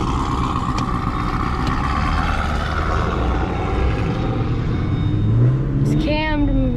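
A cammed, supercharged Pontiac G8 GT rumbles loudly and steadily up close, then revs near the end with a sharp rising sweep in pitch.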